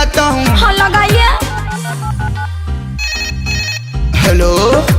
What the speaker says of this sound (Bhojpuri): अभी मैं फोन लगाता हूँ।